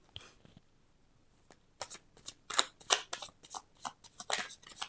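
Fountain Tarot cards being shuffled, a few soft taps and then a run of quick, crisp riffling bursts close to the microphone.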